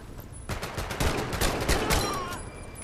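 Rapid bursts of gunfire from a WWII weapon in the VR shooter Medal of Honor: Above and Beyond, loud and close, with shots rattling in quick succession through most of the stretch.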